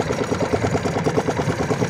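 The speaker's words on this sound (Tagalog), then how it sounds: "Yan po ang kanyang makina." A freshly rebuilt motorcycle engine idles close by with a steady, slightly slow and uneven low throb, running alone without talk for about two seconds.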